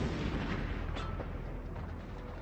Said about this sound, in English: The Canadians had to face relentless shelling.